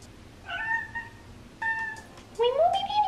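A house cat meows three times indoors, loud and close: two short calls, then a longer rising one, separated by quiet pauses.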